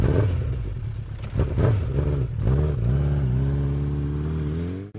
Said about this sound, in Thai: เสียงเครื่องยนต์มอเตอร์ไซค์คำรามดังสนัน่น